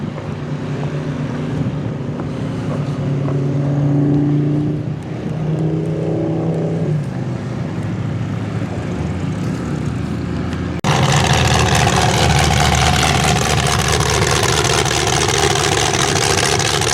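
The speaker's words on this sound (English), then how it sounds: "A bunch of stock cars still making their way through." Steady roar of stock car engines passing at a county derby, with wind noise, a continuous rumbling drone that grows louder and denser partway through.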